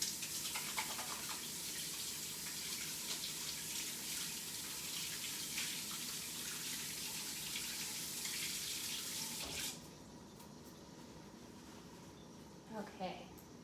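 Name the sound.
washing hands under running tap water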